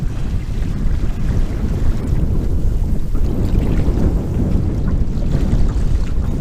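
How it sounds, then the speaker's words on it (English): Strong cold wind buffets the microphone out on McCrae Lake while paddling, a loud, continuous low roar with gusty rumbling that never lets up. "Wind is coming in strong. It's the cold wind moving in."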